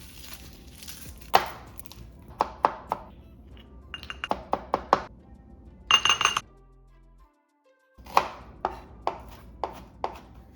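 A knife chops garlic and ginger on a cutting board in a home kitchen, sharp close knocks in quick bursts of several strokes, then a short silence before another run of steady chops, with no talking.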